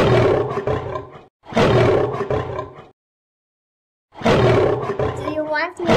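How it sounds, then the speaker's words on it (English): A lion roars in two long, loud, rasping bursts, separated by a short gap, followed by a silence and then a further rumbling roar with a rising voice-like tail. "Lion."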